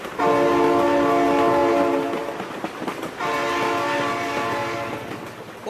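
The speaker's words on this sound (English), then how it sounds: "Oh my god, train!" A train horn blasts in a BeamNG.drive video game, two long loud sustained tones with a brief dip between them, over the rumble of a train passing close by.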